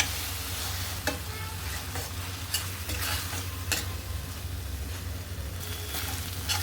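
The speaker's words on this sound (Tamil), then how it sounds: "இது நல்லா கலந்து விட்டுக்கலாம்." Ground masala being stirred into sautéed onions in a pan, with repeated spatula scrapes and taps over a soft sizzle and a low steady hum.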